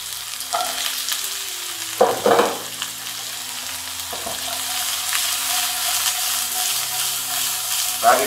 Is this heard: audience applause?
no